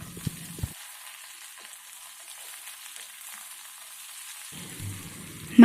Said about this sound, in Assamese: এতিয়া আমি কাটি থোৱা হাঁহ মাংসখিনি দি দিম